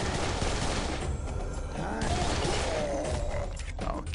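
Rapid bursts of gunfire from a newly picked-up weapon in the shooter game Serious Sam 3: BFE, a dense continuous fusillade with mechanical clatter lasting the whole stretch, loud and close.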